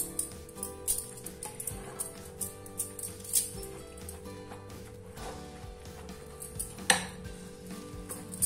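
Grated potato, bottle gourd and gram flour being mixed by hand in a metal bowl for lauki kofte, with soft repeated squelching and clinking taps close by, fairly quiet and without talk.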